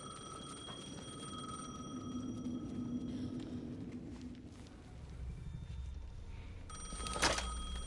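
A telephone rings in the Alan Wake 2 video game, a faint repeating electronic trill heard in bursts over a dark, rumbling ambient background with scattered footsteps.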